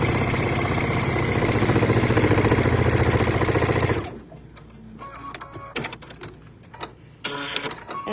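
A sewing machine stitches quilt blocks together for a winter table runner, running in a loud, steady, rapid whir for about four seconds before stopping, followed by quieter scattered clatter.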